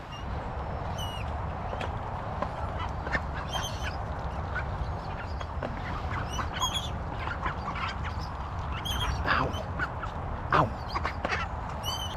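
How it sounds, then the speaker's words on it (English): Waterfowl call repeatedly by the water at a fishing spot on a rainy day, short honking quacks scattered through the clip at mid distance over a steady background of outdoor rumble and rain. "Ducks have come down here out of the rain."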